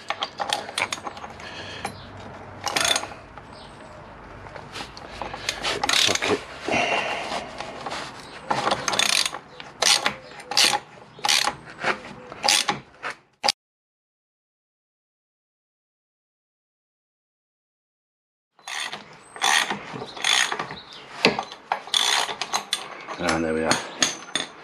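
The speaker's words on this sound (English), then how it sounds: "let's finish getting this nut off" Wrench working a jammed nut off the rear hub of a Honda VFR800 VTEC motorcycle, uneven ratcheting clicks and metallic scraping close up, broken by a few seconds of silence before the grinding resumes.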